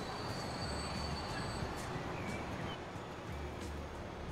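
Trains running through a busy station in the video game Transport Fever, a steady broad rolling rumble with faint high wheel squeal lines throughout, no talking.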